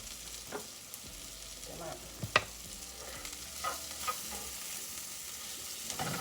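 Onions fry in a pan with a steady soft sizzle, broken by occasional stirring scrapes and light clicks, moderately quiet and close.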